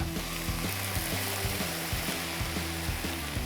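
Guinness simmering with seasoned cabbage in a pan, a steady bubbling sizzle with a rhythmic mechanical ticking underneath.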